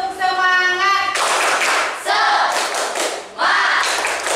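A school class performs a rhythmic clapping routine, with loud bursts of synchronized hand claps separated by short pauses and a chanted or sung tone opening the sequence.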